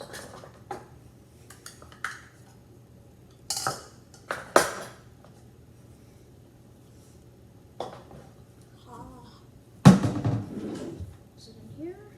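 Measuring cups clatter and clink in a kitchen while being fetched for a double batch of chocolate chip cookies, several sharp separated knocks with quiet gaps between, one louder clatter toward the end.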